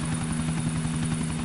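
Helicopter in GTA IV with a steady, loud rotor drone and whine running unbroken throughout, close and continuous with no pauses.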